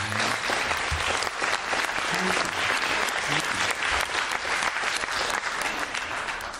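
A large audience claps steadily throughout at the end of a talk on disability and vulnerability, a dense, sustained wash of applause close and loud with faint crowd murmur underneath.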